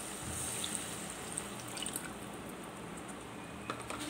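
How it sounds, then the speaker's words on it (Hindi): Tamarind juice poured into a pan of spicy mutton bhindi, a steady liquid trickle with soft drips, close and fairly quiet, no talking. "अब हम इसमें ना इमली का जूस ऐड करेंगे"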